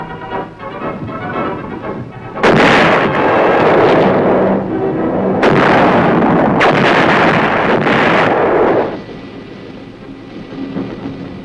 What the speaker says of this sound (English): The hard work at Aberdeen pays off as the 175s reliably deliver shells with pinpoint accuracy on targets over 10 miles away.